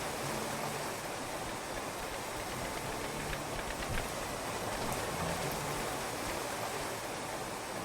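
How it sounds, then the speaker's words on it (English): Steady, hissing driving rain in a video game falls heavily and continuously, a dense wash of noise with no voices or other sounds standing out. "Driving rain."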